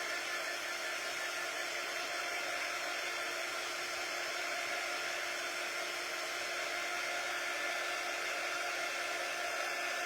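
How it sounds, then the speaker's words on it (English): A heat tool blows steadily as it dries a craft project before another layer goes on, a continuous close whirring hiss that holds level throughout with no pauses and no talking. "Now I'm going to dry this first because we're going to layer it with the words in between."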